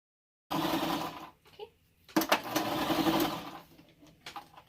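A sewing machine stitches a cloth face mask in steady whirring runs, a long burst, a brief pause with small clicks, then another sustained run before slowing to faint taps, close and clear with no talking.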